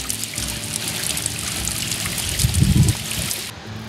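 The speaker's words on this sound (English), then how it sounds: "lots of water coming down here" Water flowing and splashing down over rocks near hot springs in a canyon park, a steady close trickling rush with a louder gurgling surge toward the end.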